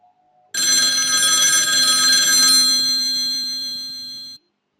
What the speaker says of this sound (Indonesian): I was studying when the phone rang.